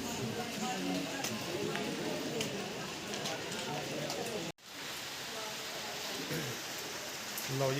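Steady rain falls at Govind Dham, a settlement high in the mountains, a dense close patter with a brief break midway, while voices talk over it.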